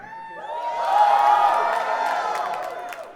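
An audience at a dance battle event screams and cheers to vote for the judge, a crowd roar swelling quickly to a loud peak and then slowly fading.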